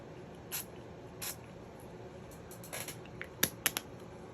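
Several short bursts from a paint mist spray bottle, spaced unevenly with a cluster near the end, fairly quiet against a soft background hiss with no talking.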